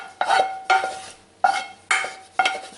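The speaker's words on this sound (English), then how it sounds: "Stir that all in. Get those mixed in real well." Softened sautéed vegetables stirred into a Thanksgiving dinner dish with a spoon, five distinct scraping, squishing strokes at an even rhythm, close and fairly loud with short pauses between.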